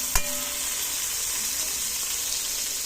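Ginataang tahong base sautéing in a pan: a steady, close sizzle and frying hiss with a brief stir or clatter near the start, no talking.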